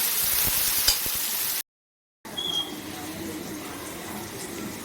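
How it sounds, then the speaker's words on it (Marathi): Onion fries in tempering oil until reddish, making a continuous sizzle with a few scraping stirs. The sound cuts out briefly for a moment of silence, then the softer frying returns. "इथे आपला कांदा आपल्याला छान असा लालसर होईपर्यंत भाजून घ्यायचा आहे"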